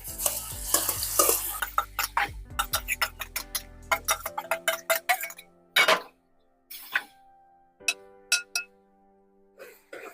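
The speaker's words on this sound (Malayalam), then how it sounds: "കപ്പക്ക ഒന്നുകൂടി വഴറ്റിയെടുക്കാൻ പോകുന്നു" Cooked tapioca being sautéed in a pan: a dense run of scraping, clinking spatula strokes against the metal, steady and close, with a soft sizzle underneath early on, then sparser individual scrapes and taps.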